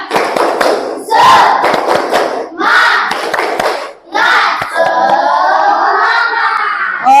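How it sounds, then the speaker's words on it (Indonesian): Fifth-grade pupils in a math class do a rhythmic clapping chant, bursts of quick hand claps in patterned groups broken by short pauses, with children's voices chanting and shouting along toward the end. "Kalau gitu kita tepuk dulu ya, tepuk tangan. Tepuk semangat."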